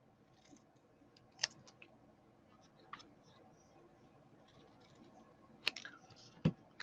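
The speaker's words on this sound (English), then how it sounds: "I'm just going to snip it this way and that way, that way" A few sharp, isolated snips of scissors cutting pre-embossed card stock, close and fairly quiet, spaced irregularly against a hushed room.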